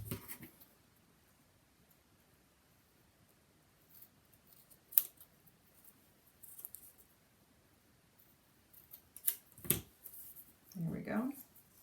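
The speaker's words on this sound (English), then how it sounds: "So I will cut off the edge." Scissors trimming the edge of an acrylic pocket for a box album lid, a few faint, quiet snips spaced apart with a brief rustle near the end, otherwise near silence.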